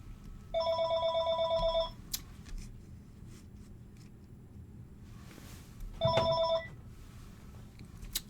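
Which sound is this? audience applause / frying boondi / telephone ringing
telephone ringing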